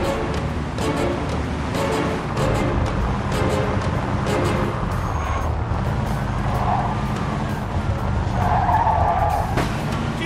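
A car driven hard in the Mafia II video game, engine droning steadily with repeated tire squeals and skids throughout, loud and close, with brief bursts of sliding screech near the end.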